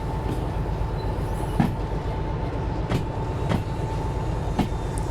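A big, heavy locomotive in the train simulator game Derail Valley creeps along at about one mile per hour, giving a steady low rumble with a few faint clicks and knocks from the wheels.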